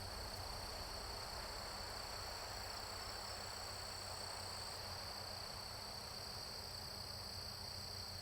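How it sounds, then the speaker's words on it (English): A continuous, high-pitched cicada drone in a video game set in Texas hums steadily over faint ambient noise, unchanging throughout. "I think those are cicadas, aren't they?"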